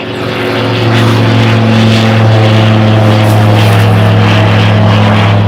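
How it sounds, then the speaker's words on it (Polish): A propeller airplane flies overhead near an airfield, its loud droning engine swelling in over the first second and then holding a steady, rough hum alone. "Samolot. Nie wiem, czy go widać."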